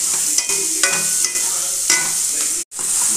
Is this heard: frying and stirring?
yes